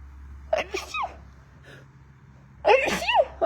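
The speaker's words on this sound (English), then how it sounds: "I feel a sneeze coming on, just so you guys know." One person gives a loud, close sneeze with a gasping build-up. Several voices break into laughter and chatter around it.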